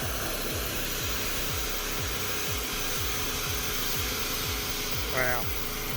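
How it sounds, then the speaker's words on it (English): Pressure washer spraying the dirty boot of a Ford Falcon, a continuous loud hissing roar with a pulsing low engine rhythm beneath it, steady throughout with a brief whistle near the end. "So Jackson's going over it with the pressure washer."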